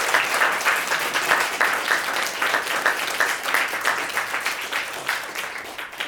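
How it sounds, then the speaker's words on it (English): An audience claps for a translator after a panel on translation, a dense, steady round of applause with individual claps audible, holding at a fairly even level before thinning slightly toward the end. "if we can give another round of applause for our translator"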